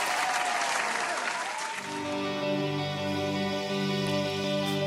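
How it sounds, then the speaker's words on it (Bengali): Applause from a concert audience at a live show rises briefly at the start, then steady sustained musical tones take over for the rest of the clip. "ওনাদের জন্য একটা জোরে হাততালি প্লিজ"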